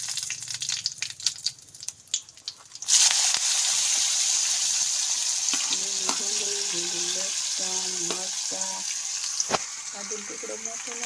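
Cumin seeds hit hot oil for tempering and start a sudden loud sizzle that keeps going strongly, with someone talking over the frying before and during it.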